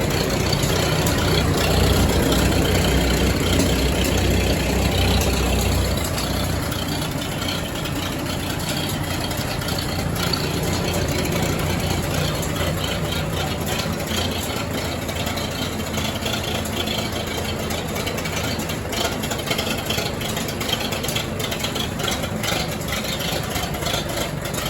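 A heavy 1962 Farmall 560 tractor engine idles steadily, a low rumbling chug that runs continuously at a constant level.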